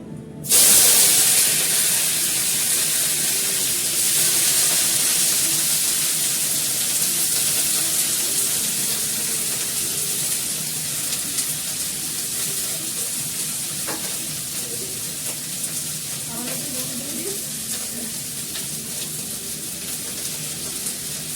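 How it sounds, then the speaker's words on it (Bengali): Cauliflower frying in a pan gives a loud, steady hissing sizzle that fades slightly over time, with occasional faint clinks and no voices. "এবার আমি কপিটাকে ভেজে নেব।"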